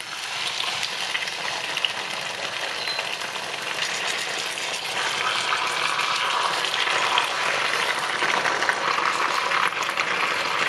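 Pork hock dropped into a hot pot for braising with bamboo shoots sizzles steadily, a dense hissing fry that swells louder partway through and continues without pause, close by with no talk.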